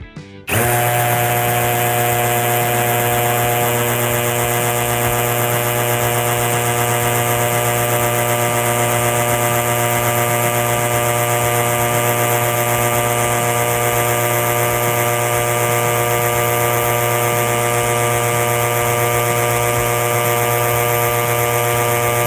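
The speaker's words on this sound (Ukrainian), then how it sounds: "Ну а тепер тестуємо режим удару. Свердло на 10, кирпіч силікатний." A Procraft CD20B cordless drill in hammer mode bores a 10 mm bit into silicate brick, a loud, steady, close-up whine and rattling buzz that starts abruptly and holds constant throughout, with no talking.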